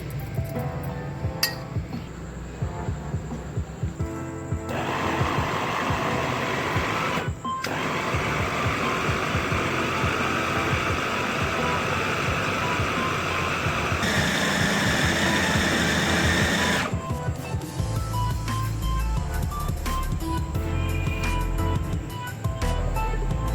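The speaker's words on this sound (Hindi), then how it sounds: "मैंने जो बॉल बनाने के लिए चॉपर में ग्राइंड किया था" An electric chopper grinds chicken kofta mixture with spices such as garam masala and chilli, whirring loudly in a few long bursts with brief pauses and rattling clinks in between.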